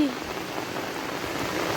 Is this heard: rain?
yes